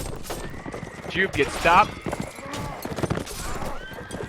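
A horse neighs and its hooves gallop during a competitive multiplayer video game match, the whinny rising briefly near the middle while a commentator talks continuously over the action.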